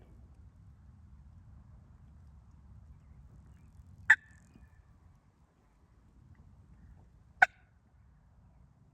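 A wild turkey gobbles twice in the open, two sharp loud bursts several seconds apart over a low steady background rumble.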